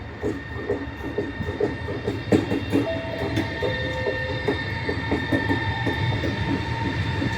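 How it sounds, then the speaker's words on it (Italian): A regional train pulls into a platform at Padova station in Italy, with loud rumbling and rhythmic wheel clatter, bursts of brake squeal and a rising screech as the cars roll in close by. "Il treno regionale delle ore 16:41 per Rovigo è in arrivo al binario 1."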